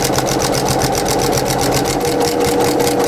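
Sewing machine stitching a quarter-inch seam on a baby comfort blanket, running close and loud in a steady, fast mechanical chatter with a regular pulsing beat from start to finish.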